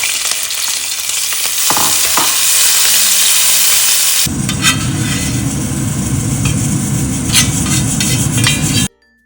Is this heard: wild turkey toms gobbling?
no